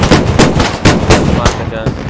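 Rapid gunfire in the military shooter game Squad, several loud close bursts in uneven rhythm with a little talk mixed in.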